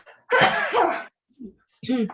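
A single sharp sneeze from an adult during a bilingual English and Portuguese Bible study class, followed after a short pause by a faint second burst and then someone speaking.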